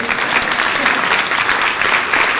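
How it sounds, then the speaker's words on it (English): A standing audience at a business meeting claps steadily, a loud, even wash of applause sustained without pause. "if you give me a round of applause"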